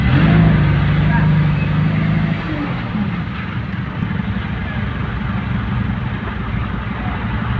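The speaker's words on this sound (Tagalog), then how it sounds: "Grabe ang traffic ah." Road traffic with a steady engine rumble and passing car noise, close and continuous, while people talk over it.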